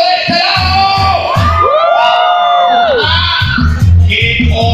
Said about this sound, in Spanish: ¡El grito de aplauso de este lado!